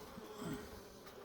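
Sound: honey bees at a hive

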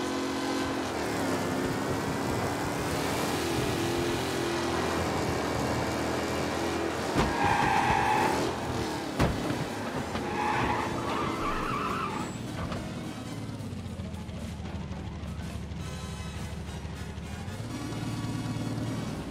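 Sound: race car speeding and skidding in video game Mafia Definitive Edition

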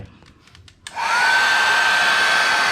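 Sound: hair dryer blowing water off motorcycle sticker

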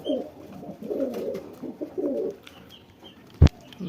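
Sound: pigeons cooing

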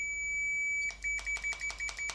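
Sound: multimeter continuity beep while testing MIG welding torch

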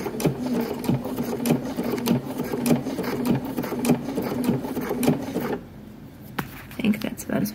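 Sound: sewing machine stitching swim trunks

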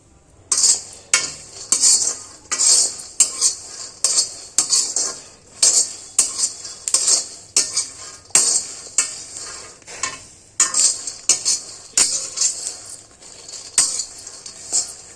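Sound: peanuts frying and being stirred in oil

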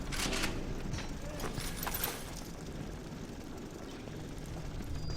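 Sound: drone flying in the video game BioShock

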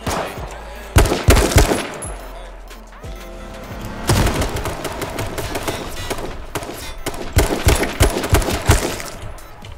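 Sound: gunfire in the video game H1Z1

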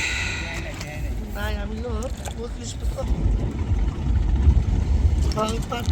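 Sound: fishing trawler engine on the Padma river

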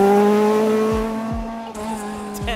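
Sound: historic rally car passing at speed

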